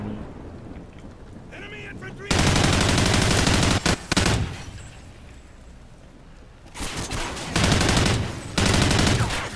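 Call of Duty Ghosts gunfire: loud sustained automatic bursts, one long volley, a short gap, then more rapid fire in two further bursts, with quieter game ambience between.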